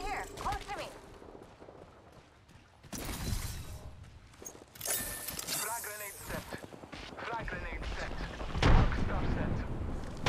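Bursts of gunfire and explosive blasts in the battle-royale shooter Apex Legends, loud and close, rattling volleys with sharp heavy cracks toward the end, mixed with players talking over the action.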